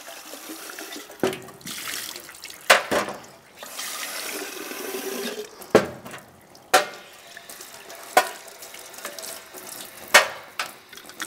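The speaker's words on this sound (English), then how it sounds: "Tip that out, give it a rinse." Running tap water splashes and gurgles into a container, with several sharp knocks and clunks as it is handled and rinsed nearby.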